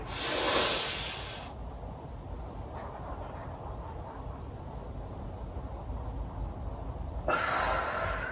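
A long, steady exhale during a breathing exercise, a soft airy hiss lasting several seconds between brief louder breaths at the start and end.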